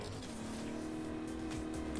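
A car drives in the open-world action game Agents of Mayhem, its engine a steady, loud drone with some tire noise and no break throughout.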